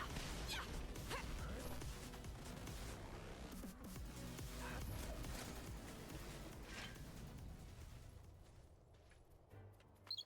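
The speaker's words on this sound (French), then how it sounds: "Oula, explosion, on se casse." An explosion in the video game Final Fantasy 7 Rebirth arrives as a sustained, rumbling crash with scattered debris impacts, loud at first and fading over about ten seconds, with no speech.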